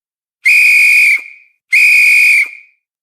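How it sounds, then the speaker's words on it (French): Two long, loud blasts of a whistle blown as a departure signal for a dugout canoe, each about three-quarters of a second with a short fade, separated by a brief pause. "Le bruit d'un sifflet retentit soudain."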